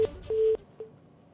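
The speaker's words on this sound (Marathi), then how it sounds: "फोन कट झालेला आहे" A telephone line gives short steady beeps after a live call drops, three brief tones spaced a fraction of a second apart, clear and alone before fading to near silence.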